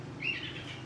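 Three pet birds chirp indoors just before feeding, a brief high call rising and fading against a low steady hum, close and fairly loud.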